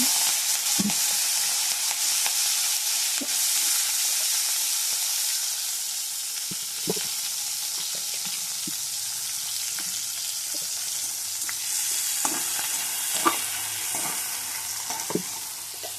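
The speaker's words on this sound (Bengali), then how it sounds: "তেলটা গরম হয়ে এসছে, এখন মাছটা ভেজে নেব।" Prawns sizzle steadily in hot oil in a pan, a continuous loud hiss broken by occasional clicks and knocks of stirring, with no voices.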